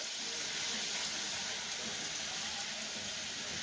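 Pork sears in a hot pan, a steady, bright hiss of sizzling fat that holds evenly at close range without a break.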